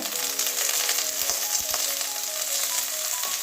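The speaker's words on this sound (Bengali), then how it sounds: "এইভাবে অল্প তেলের মধ্যে এটা ভেজে নিতে হবে" Stuffed flat beans fry in a little oil in a pan, a steady bright sizzle with a few soft clicks, close and constant with no talking.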